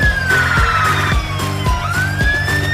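A cartoonish fire truck siren from a kids' transport game wails loud and steady, its tone sweeping down and back up over a looping rhythmic beat, with no voices.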